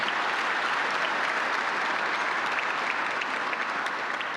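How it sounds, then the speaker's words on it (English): Audience applause at an annual awards celebration for a workforce training center, a steady, even wash of many hands clapping that holds at a constant level throughout. "Let's give them a round of applause."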